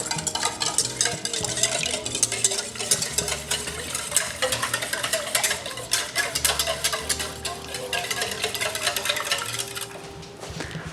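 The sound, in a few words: mixing wet pancake ingredients with vanilla and butter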